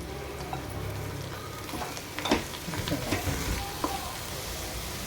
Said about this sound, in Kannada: 3 ಕಂತೆ ತಾಜಾ ಮೆಂತ್ಯ ಸೊಪ್ಪು ತೊಳೆದು ಗುಡಿಸಿ ಹೆಚ್ಚಿಟ್ಕೊಂಡಿದ್ದೀನಿ, ಹಾಕ್ತೀನಿ ಒಗ್ಗರಣೆ